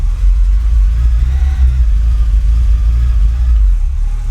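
Car engine pulling away in first gear, a loud deep rumbling drone that holds steady throughout with slight swells, close and without talk.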